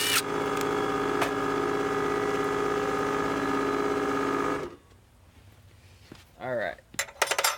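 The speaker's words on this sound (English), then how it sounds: "So first things first, unscrew this crooked hinge." A crooked hinge on a Jeld-Wen pre-hung door is unscrewed with a power driver, its loud continuous whir lasting several seconds before stopping, followed by quieter clinks and handling noises with brief talk.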